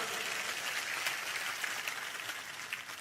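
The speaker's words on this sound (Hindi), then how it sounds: "सबके लिए जोरदार ताली बजा दो" Crowd applause at a Lok Sabha nomination rally in Churu, a dense, steady wash of many hands clapping at moderate distance with no clear voices, holding evenly for about three seconds.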